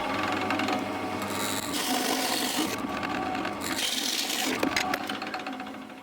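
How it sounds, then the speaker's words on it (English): A pillar drill with a Forstner bit bores steadily into wood, a continuous grinding whir with rasping texture and slight shifts in pitch, close by with no talking. "I've set the depth thing on the pillar drill to the depth."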